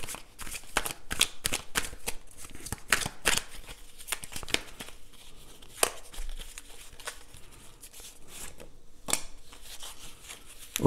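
Tarot cards riffled, shuffled and snapped down on a table in a quick irregular series of close crisp flicks and slaps, with occasional softer rustling in between.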